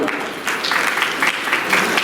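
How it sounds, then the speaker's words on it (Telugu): Audience clapping at a college freshers party, a steady wash of applause that runs through the whole moment with a few louder swells, with voices mixed in. "వాళ్ళకి గట్టిగా చప్పట్లు"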